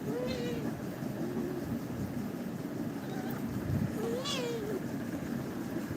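A mother cat and kittens give several thin, high meows, spaced apart over a constant background hiss.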